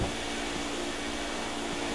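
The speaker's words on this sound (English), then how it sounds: "Luckily, we have a vacuum cleaner." Steady broadband whooshing drone of Luigi's vacuum cleaner (the Poltergust) running in a dusty basement in Luigi's Mansion, continuous and loud with no breaks, no voices.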